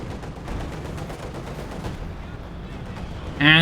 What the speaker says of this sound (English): And another strafing run here from Eisernes Kreuz